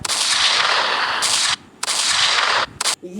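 Gunfire in a battle royale video game: two long bursts of loud rapid shots separated by short pauses, then a brief final burst, close and dominant with no talking.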